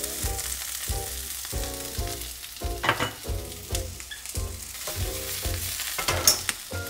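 Onion sautés in olive oil in a frying pan, giving a steady close sizzle with crackling spits and occasional soft clatters of stirring, with no voices.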